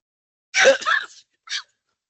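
A single person sneezes during a board meeting, a sharp breathy burst followed by a short second catch of breath, heard alone in an otherwise quiet room.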